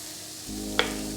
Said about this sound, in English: once the onions start to get a bit soft and you can really hear it sizzling away